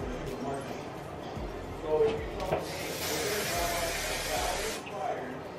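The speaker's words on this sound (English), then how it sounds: "So now I'm gonna flip my head over and I'm gonna do a quick spray of the bottom." A sustained hiss of hairspray from an aerosol can sprayed on the underside of hair, one long spray lasting a couple of seconds amid faint rustling.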